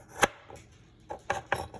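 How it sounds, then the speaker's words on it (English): A few sharp knife chops on vegetables on a cutting board, irregular and fairly close, with quiet pauses between strikes. "along with a couple of chops like I'm going to do here"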